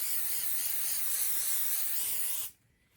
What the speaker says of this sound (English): So I'm going to lightly spray this.